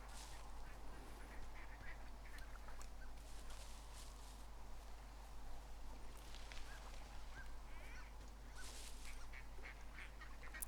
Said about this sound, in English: I hear ducks on the water.